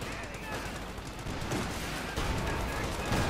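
Dense, sustained gunfire and explosive shots from the Company of Heroes 2 war strategy game, thick with overlapping bursts. Voices can be heard faintly beneath the battle noise.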